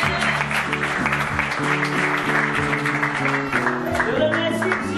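A church youth gathering applauds God, clapping steadily and fairly loudly throughout, with sustained musical tones running underneath.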